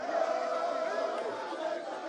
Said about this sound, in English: The youth there in another jeering and cheering as we speak